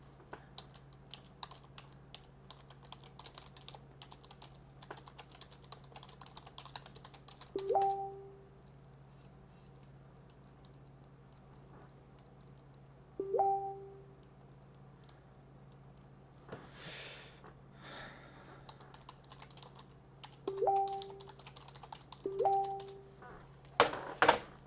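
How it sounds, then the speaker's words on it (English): Quiet typing on a computer keyboard, scattered clicks and short flurries of keystrokes near the mic, with a few brief electronic beeps from a game in the background. "I'm going to type a message."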